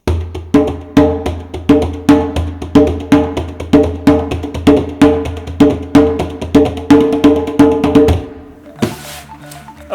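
A djembe played fast, with quiet ghost notes between the accented strokes, sounds as a steady stream of close, sharp hand strikes for about eight seconds before stopping.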